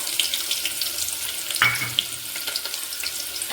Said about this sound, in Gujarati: જો તેલ આવી ગયું છે અને હવે નાખી દઈશું કાંદા